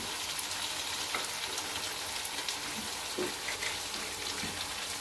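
Steady loud sizzling and crackling from a hot pot of mutton and apple gourds, with a few soft bubbling pops as water hits the cooking meat.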